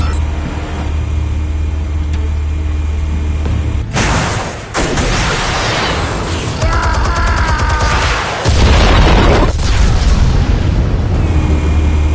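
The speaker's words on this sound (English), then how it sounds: "Explosives armed. Fire when ready." Explosive detonations in a PS4 shooter game, heavy booms and crashes over a loud droning rumble, with a sharp blast near the four-second mark and another burst later.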